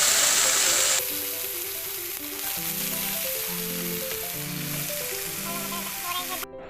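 Onion, bay leaf and crushed raw papaya fry in hot oil, giving a loud, steady sizzle that goes on throughout, close up, with faint background music underneath.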